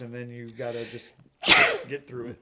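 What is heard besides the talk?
sneeze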